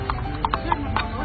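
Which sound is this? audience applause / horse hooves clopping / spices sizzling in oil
horse hooves clopping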